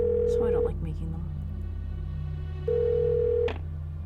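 Telephone tones during a call in the video game Art of Murder: FBI Confidential: two steady electronic beeps, one at the start and a longer one near the end, over a low hum, with brief voice sounds between them.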